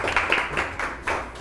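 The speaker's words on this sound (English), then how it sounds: "clap for him" Students in a 9th grade English class clap for a classmate, a short burst of scattered, uneven hand claps from a small group nearby.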